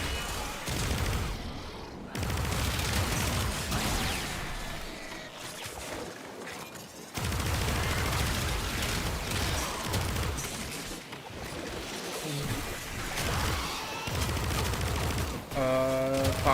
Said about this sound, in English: I'm a fan of burst weapons.